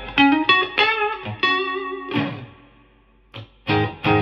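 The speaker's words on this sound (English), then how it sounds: "It's got reverb on it, so it's got actual real spring reverb." A clean electric guitar played through an all-tube class A amp with real spring reverb, in the style of a Fender '65 Deluxe: a few clear, ringing chords and single notes, up close, each left to decay with a reverb tail before the next strum.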